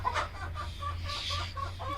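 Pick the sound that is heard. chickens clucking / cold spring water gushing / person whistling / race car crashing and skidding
chickens clucking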